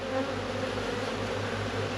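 Honey bees in a queenless beehive being opened for inspection give a steady, close, dense buzzing drone with no one speaking.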